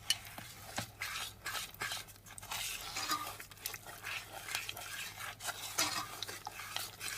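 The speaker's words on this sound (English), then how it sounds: "add lemon zest, lemon juice, stir those through" A spoon stirs lemon zest and lemon juice through spiced Christmas cookie dough in a bowl, giving repeated scraping and clacking strokes that are close and fairly loud, with no talking.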